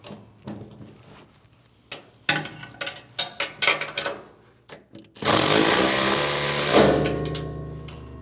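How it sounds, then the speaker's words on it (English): An impact wrench drives a 3/4 inch bolt to draw down the sprocket on a MUSKOX snowblower. One loud, continuous burst of about a second and a half follows scattered nearby clicks and clanks of tool handling. "you'll need a 3/4 inch wrench, and you can use a ratchet, or I'm going to use an impact here"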